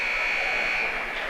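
A loud, steady end-of-half buzzer sounds at a girls' Class A championship high school basketball game, a single sustained electronic tone filling the gym.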